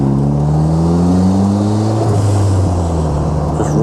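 A turbocharged Mev Exocet's engine revs while parked, a loud close buzzing drone whose pitch climbs and dips unevenly, with the revs sounding slightly hesitant.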